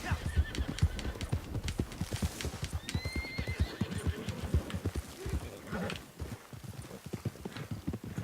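A horse in the Red Dead Online video game trots along at a steady clip-clop and gives a whinny midway, with faint talk over it.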